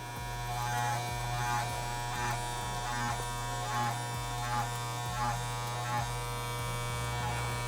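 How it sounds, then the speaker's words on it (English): Electric hair clippers buzz steadily and close up while a lineup is cut, their even motor hum pulsing slightly as the blade is tilted along the corners of the hairline. "the key to getting the corners is you gotta like kind of tilt your clippers like this"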